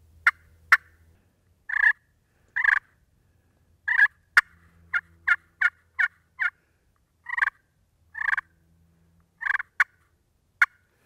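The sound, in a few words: turkey hen clucking imitated with call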